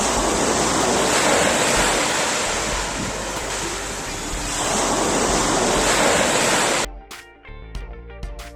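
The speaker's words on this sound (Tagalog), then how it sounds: "Merong isang tidal bore sa Brazil na katangi-tangi dahil sa mga alon nito na sobrang taas." Pororoca tidal bore on the Amazon in Brazil, a broad continuous roar of crashing water and wind that fills the scene for about seven seconds, then cuts off abruptly.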